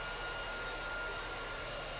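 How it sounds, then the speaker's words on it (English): Boeing 727 jet engines in the flight game PTFS, a steady, fairly quiet droning roar with a faint whine held throughout, no voices. "That's the engine sound there."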